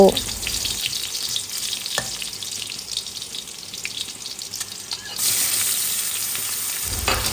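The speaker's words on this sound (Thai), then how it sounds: "ใส่หมูสับลงไปแล้วก็พัดจนหมูสุกดีนะเจ้า" Minced pork stir-fries with garlic in oil in a wok, a steady close sizzle broken by sharp spatula scrapes and knocks, swelling into a louder, denser hiss toward the end, with no one speaking.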